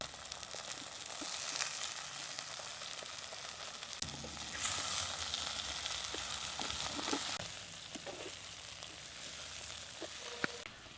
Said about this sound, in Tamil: பாதி வதங்கினதோடு இந்த முருங்கைக்காவும் சேர்த்துருவோம்